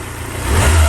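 A 2wd Ford Sierra Cosworth, a Pinto-based engine with a Cosworth head and a standard exhaust, idles just after start-up: a steady, close low rumble that swells slightly toward the end.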